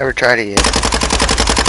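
Rapid sustained LMG machine-gun fire in a first-person shooter video game, loud and close with evenly spaced shots, following a brief spoken phrase.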